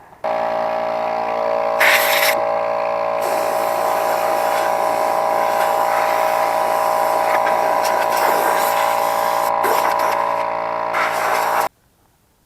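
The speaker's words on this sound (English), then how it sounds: "Get my compressor out so I can blow this thing here, blow all the dust and everything out of it." Air compressor running steadily and loudly with a strong hum and buzz while blowing dust out of a part from an Atwood RV heater, with short louder hissing bursts of air, then cutting off abruptly near the end.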